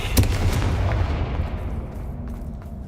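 An Incendio fire spell cast during a spider fight in Hogwarts Legacy bursts with a sharp, booming whoosh up front, then trails off into a fading rumble, with no talking.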